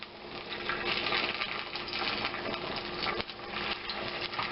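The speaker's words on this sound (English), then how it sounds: "once the garlic starts sizzling like that, you know it's time to put in the hamburger, or the ground beef" Garlic and ground beef sizzle in a frying pan with a steady crackling hiss that holds close and even throughout.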